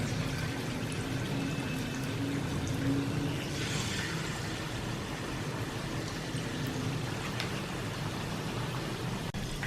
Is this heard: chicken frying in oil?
yes